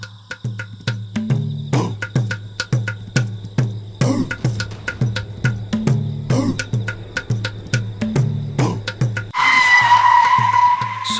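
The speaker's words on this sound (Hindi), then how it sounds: "अचानक गाड़ी रोक दी" A car brakes hard and skids to a sudden stop on a rainy road amid a string of sharp, clattering impacts, followed by a loud, bright screeching burst near the end.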